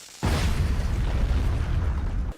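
A sudden loud boom as a battery explodes, followed by a dense rumbling roar that holds for about two seconds before cutting off.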